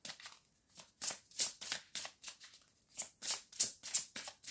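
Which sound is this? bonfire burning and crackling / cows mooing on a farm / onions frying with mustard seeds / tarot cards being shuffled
tarot cards being shuffled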